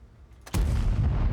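Manticore tank cannon firing in a video game: a single sudden, loud boom that breaks out of a quiet background and carries into a sustained, heavy rumble.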